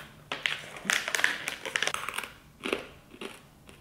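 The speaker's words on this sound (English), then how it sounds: "Super crunchy. Kind of tastes like popcorn." Crunchy snack bitten and chewed up close, a run of sharp crisp crunches in quick bursts with short pauses between, alone with no talking.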